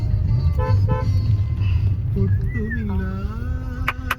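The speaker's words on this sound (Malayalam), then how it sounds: "ഹോണടിക്കും ചേട്ടാ." Short car horn toots sound close by as a car arrives at a house, a few brief honks in the first seconds, followed by quieter engine and road noise with some faint voices.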